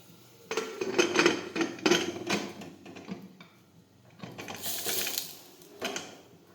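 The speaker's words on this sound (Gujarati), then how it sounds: "હવે આપણે કુકરનું ઢક્કણ છે તે બંધ કરી દઈશું." A pressure cooker lid set in place and closed, giving close metallic clacks, scrapes and rattles in short bursts with quieter gaps between them; no voices.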